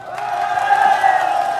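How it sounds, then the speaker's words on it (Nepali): A large crowd at a political rally in Nepal sends up a sustained, loud roar of cheering and voices that swells slightly midway. "आदरणीय दाजुभाइ दिदीबहिनीहरू, ताली बजाउनु होला सबैले"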